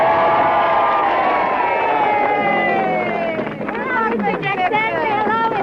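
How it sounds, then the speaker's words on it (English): A crowd at a 1968 Richard Nixon campaign event roars with sustained cheering and shouting, dense and loud throughout, with whistles and excited voices rising out of the noise. "Let's cheer for Mr. Nixon"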